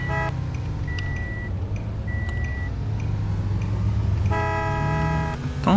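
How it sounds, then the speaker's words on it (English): A car horn beeps in short, clear toots from a nearby vehicle in traffic, heard over a steady road and engine hum. "Don't beep at me."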